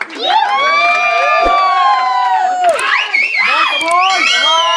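A crowd at a gathering cheering and shouting with loud overlapping voices and whoops, sustained and close for nearly five seconds, with little distinct clapping.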